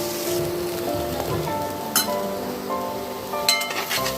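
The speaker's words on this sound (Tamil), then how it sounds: "நல்லா சுருளை வதக்கியாச்சு." Elephant yam masala sautéing in oil in a pan, a steady close crackle and sizzle running throughout with a few brighter spits and stirring scrapes.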